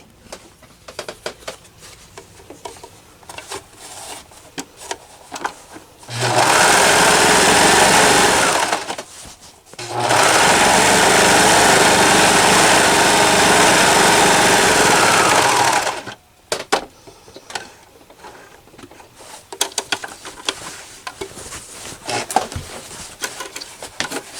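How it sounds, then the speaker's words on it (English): A serger sewing machine overlocks curtain fabric with burgundy thread in two loud, steady whirring runs, the first about three seconds and the second about six, separated by a brief pause, with quieter handling noises before and after. "So I'll show you what I mean when I serge it with the burgundy."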